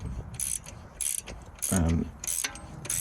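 A wrench turns a bolt out of a rear suspension hub arm on a car with a camber problem, giving bursts of clicking ratchet strokes, close and fairly loud, separated by short pauses.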